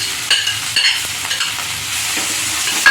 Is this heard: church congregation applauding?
no